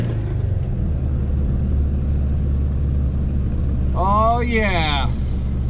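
An old VW Beetle engine runs steadily at close range on its first drive, with road noise throughout and a brief spoken exclamation near the end.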